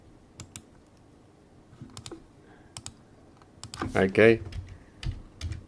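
Computer keyboard keys typed in scattered short bursts while a network ping command is entered on a Check Point Gaia R80.10 system, with a brief spoken word partway through and a denser flurry of keystrokes near the end.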